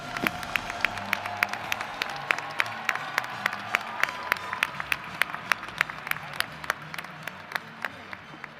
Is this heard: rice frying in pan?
no